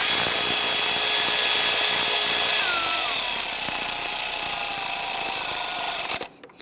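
A power tool runs steadily while driving bolts on the 3.5L V6 engine of a 2011-2019 Ford Explorer, a loud continuous high whine with a pitch drop midway, stopping abruptly near the end.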